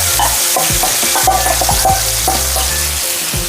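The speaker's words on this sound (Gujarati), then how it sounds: "હવે એમાં આપણે આપણા મગ નાખીશું." Mung beans tipped into a hot tempering of ginger, green chili and curry leaves, a loud continuous close sizzle with rhythmic stirring and spoon scrapes against the pan.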